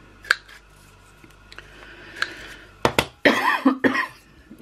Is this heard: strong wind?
no